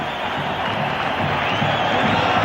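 A large crowd at a 1999 India vs Sri Lanka one-day international cricket match in Pune cheers and shouts for the home team, a dense, steady roar that swells slightly toward the end.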